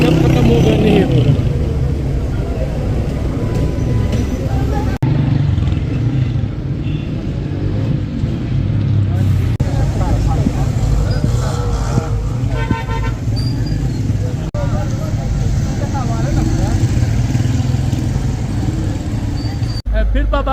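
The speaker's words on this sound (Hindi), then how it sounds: "पीर बाबा में इस वक्त ट्रैफिक जाम आप देख सकते हैं" Dense road traffic jammed at Pir Baba in flood-hit Buner, with cars and motorcycles idling and rumbling, repeated car horn toots, and occasional revving, steady and close throughout with voices talking over it.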